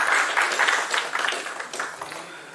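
Audience applause at a film press meet, a steady wash of many hands clapping that fills the whole moment and slowly eases off toward the end.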